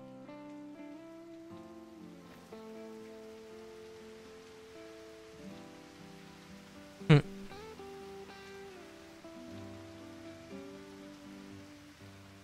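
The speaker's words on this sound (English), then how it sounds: "Oh, here comes the rain." Steady light rain in Crisis Core Final Fantasy VII Reunion, a soft continuous patter under a sustained game music score, with a brief voice line and one sharp sound partway through.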